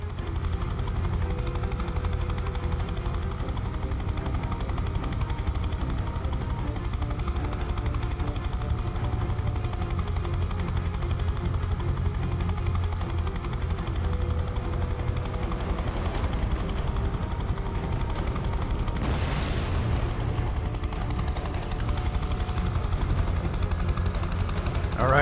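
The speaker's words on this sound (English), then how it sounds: "Helipad is clear for landing." Helicopter rotor and engine noise from the video game Prototype 2 as it comes in to land on a helipad, a loud steady drone that holds for the whole clip with a brief swelling rush near the end.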